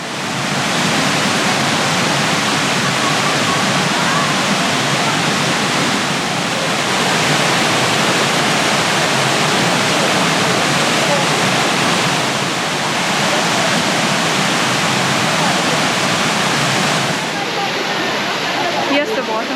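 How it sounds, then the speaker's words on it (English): A waterfall at a resort in Quezon where visitors dine sitting in the water pours in a loud, unbroken roar heard up close, filling the whole stretch with dense, even rushing that barely shifts. "Here's the waterfall"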